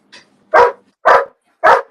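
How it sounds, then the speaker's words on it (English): Several dogs barking indoors at home, a soft yip followed by three loud, close barks spaced about half a second apart, with no talking over them. "There's no way I can control these dogs."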